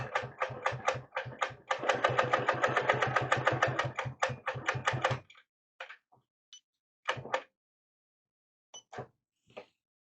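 A sewing machine quilting with a 360 Wonderfoot ruler foot runs in a fast, steady stitching burst for about five seconds, then stops, leaving only a few short clicks and bumps.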